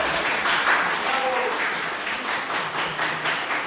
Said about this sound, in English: They can clap if they feel like it.